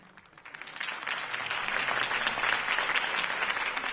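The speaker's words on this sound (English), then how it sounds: "If only Mr. Wayne, my campaign's largest backer, could have heard that applause" Crowd applause after a campaign speech in a video game, rising from a quiet start into steady, dense clapping that holds loud and sustained to the end, with no talking over it.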